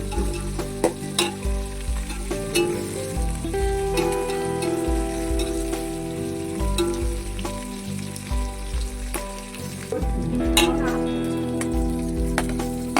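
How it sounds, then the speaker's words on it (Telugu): Onions and curry leaves frying in a pan for fish curry, with a steady close sizzle and crackle broken by occasional clinks and scrapes of stirring, and faint background noises throughout. "ఆనియన్స్ కరివేపాకు వేసుకున్నాము. ఇలా బాగా ఫ్రై చేసుకోవాలన్నమాట."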